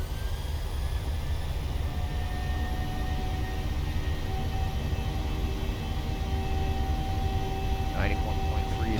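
PMDG 737 engines in a flight simulator hold a steady whining drone with tonal hum while spooling toward takeoff thrust, running continuously at even loudness. Someone talks over it.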